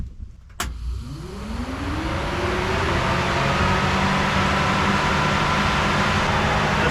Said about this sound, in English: show you how cool the fan sounds